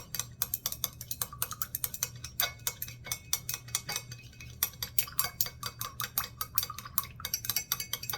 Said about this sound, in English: Now I will just take that and kind of stir it up pretty well.